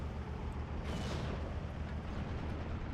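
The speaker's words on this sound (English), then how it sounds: "Now I have the SFH 369 here firing away." An SFH 369 howitzer fires during a World War II Normandy battle in a strategy game, a single muffled boom rising out of a constant heavy rumble of distant combat.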